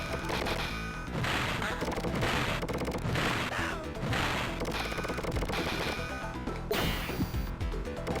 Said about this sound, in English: Shooting anvils at me